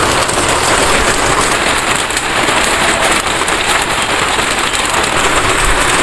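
Heavy rain pours down outside in a steady, dense downpour, a loud continuous hiss and patter filling the whole stretch without a break or any voices.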